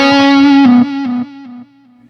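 A single sustained distorted electric guitar note plays loud through an amp with a noise gate, decaying in abrupt steps and then cutting to clean silence with no hiss or buzz.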